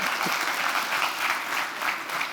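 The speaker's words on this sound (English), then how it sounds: "A warm round of applause." Audience applause at an energy crisis lecture, welcoming a speaker to the stage: a steady, dense wash of many hands clapping together, sustained without pause.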